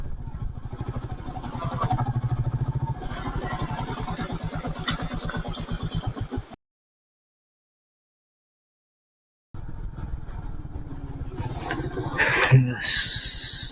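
A motorcycle, a KA 12 bike on a solo ride to Valparai, engine droning and rumbling near the mic with wind, cutting out to silence midway before resuming, with a voice talking over it.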